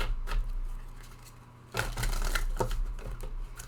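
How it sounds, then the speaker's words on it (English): Tarot cards riffled and shuffled close by in a few quick bursts of papery flicking and slapping, with a louder run in the second half. "I'm going to do a quick shuffle in of the cards that fell."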